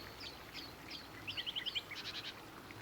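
Birds chirp and tweet in the cozy video game Botany Manor, short bright calls scattered at first, then a quick run of rapid repeated notes, fairly faint over a soft ambient background.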